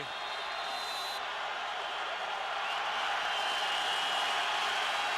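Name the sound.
football stadium crowd cheering at CFL game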